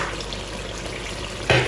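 A spice mix is stirred into a frying tomato-pepper base for vegan Nigerian jollof rice, giving a soft continuous sizzle close by, then a brief louder scrape or splash of stirring near the end.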